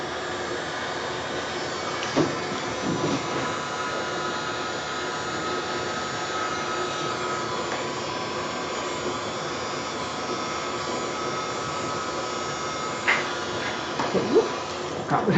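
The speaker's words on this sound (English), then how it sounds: "I'm going to try that blower again on that side." A steady, breathy air blower runs through a fluid art paint pour for the seascape, a constant whooshing drone with a few faint knocks and handling clicks near the end.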